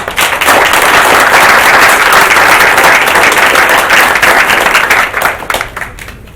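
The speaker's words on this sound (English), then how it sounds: "we'll just give you all a big round of applause right now" Loud, sustained applause from an audience at a board of education meeting, dense clapping that holds steady for several seconds before thinning out toward the end.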